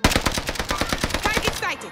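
Rapid automatic gunfire in the Warzone video game, a loud, close string of evenly spaced shots that fills the moment and then cuts off, leaving a short tail.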